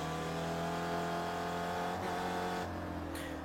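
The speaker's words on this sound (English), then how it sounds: "yet more cars come off of pit lane off to their right" Race cars drive past on a racing circuit, a continuous loud engine drone with shifting pitch as cars pass, ending with a sharper change as one goes by.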